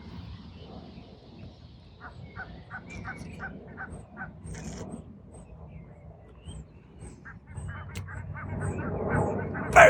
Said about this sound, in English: Together with the seagulls, I'm listening to that